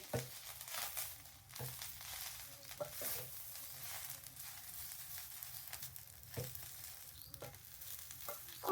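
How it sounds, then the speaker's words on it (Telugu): Curry leaves and drumstick leaves dry-roasting in two kadais give a soft, continuous crackling rustle with occasional stirring scrapes, close but quiet. "నేను 2 కడాయిల మీద అయితే వేయించేసుకుంటున్నాను."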